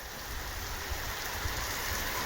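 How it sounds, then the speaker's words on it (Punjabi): Steady, dense monsoon-like downpour in a village near Amargarh, Malerkotla, Punjab, pouring for hours without pause, a constant hiss with occasional heavier drops. "ਲਗਾਤਾਰ ਇਸੇ ਸਪੀਡ ਤੇ ਮੀਂਹ ਪੈ ਰਿਹਾ ਹੈ"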